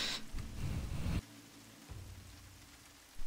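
Rain falling in the open-world action game Just Cause 3, a steady soft hiss with a louder wash at first that then drops to a quieter, even patter, with no one talking.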